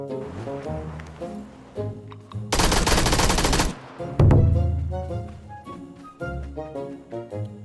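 Rapid machine-gun bursts and gunshots in a shooting video game, with a loud sustained volley in the middle and scattered shots around it over game music and effects.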